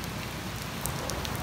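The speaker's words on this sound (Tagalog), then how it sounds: "Pakinggan nyo na lang yung mga patak ng mga ulan." Steady rain falling during a walk outdoors, a soft continuous patter with scattered individual drops tapping nearby, fairly quiet and with no voices.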